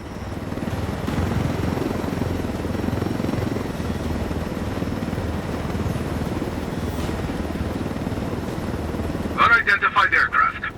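A helicopter in the video game Ghost Recon Wildlands drones with a steady, loud rotor rumble that fills the whole stretch, and a brief burst of radio-like chatter comes near the end.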